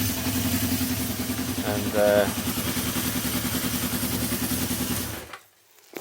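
Honda CB350 motorcycle engine idling with a steady, throbbing pulse during carburetor balancing, close and fairly loud, a brief higher whine midway, a voice speaking over it, then cutting out near the end.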